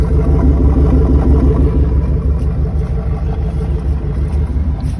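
Idling engine of a Ford Ranger pickup fitted with a new exhaust, a steady low rumble with a continuous throb, close and fairly loud, with no one talking.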